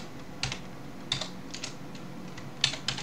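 Keys clatter on a computer keyboard in a few short bursts of quick taps separated by brief pauses, close and fairly quiet.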